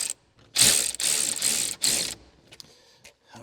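A ratchet tightens the front seat bolts in a 1967 Pontiac Firebird, several rapid clicking bursts up close, separated by short pauses, then a few lighter scattered clicks.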